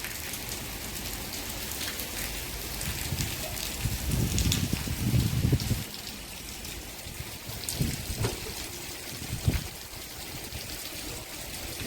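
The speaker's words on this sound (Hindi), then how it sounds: "कल के काले बादलों ने अपना कमाल दिखा दिया और झमाझम बारिश लग गई" Heavy monsoon rain pouring steadily, a dense continuous hiss of drops on surfaces with a few heavier splashes and thuds swelling midway, no voices.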